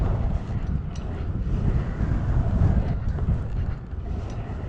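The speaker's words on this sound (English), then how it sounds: "Dang, that wind is absolutely mobbing at me." Strong gusty wind buffets the microphone outdoors at a bike pump track in Dayton, Ohio, a loud continuous low rumble that swells and eases throughout with no other sounds standing out.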